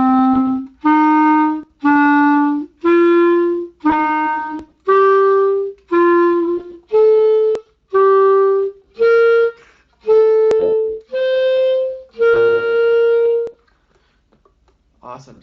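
Clarinet plays a scale in an alternating skip pattern, jumping ahead one note and stepping back, in about thirteen clear, evenly spaced sustained notes that rise gradually, played alone and close.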